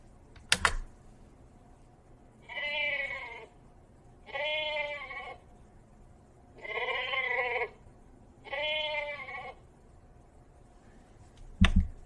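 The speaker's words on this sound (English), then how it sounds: "Should we listen to what sound sheep makes?" A sheep bleats four times in a row, each call a wavering, nasal cry about a second long with short pauses between, heard fairly clearly against a quiet background, with sharp clicks at the start and end.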